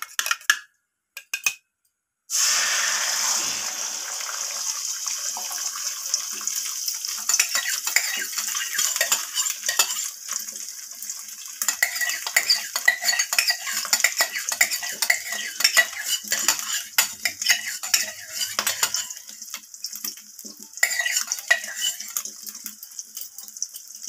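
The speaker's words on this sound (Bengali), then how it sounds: "ডিমটাকে আমি খুন্তির সাহায্যে আমি এইভাবে ডিমটাকে ভেঙে নিচ্ছি।" Metal spatula scrapes and clinks against a wok as beaten egg is broken up in hot mustard oil, a busy run of rhythmic scraping and tapping with a soft sizzle beneath.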